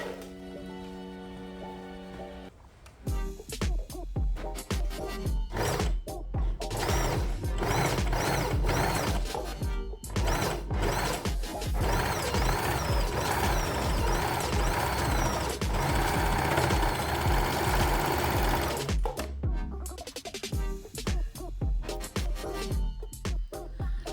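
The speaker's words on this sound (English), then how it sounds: "Overlock all of the edges you have sewn." Overlocker stitching along the edges of denim jean strips, a fast, steady mechanical whirring and clatter that runs nearly continuously and loud up close, with brief pauses and restarts near the start and end.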